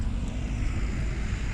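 An airplane gives a steady, loud, low rumble that holds evenly throughout.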